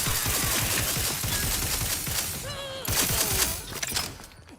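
Rapid gunshots from a weapon in The Outer Worlds 2, a fast rattling volley of close, loud reports with a brief lull and sci-fi whines before firing resumes.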